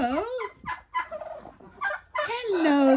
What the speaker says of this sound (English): Let's see who's in here with the turkeys.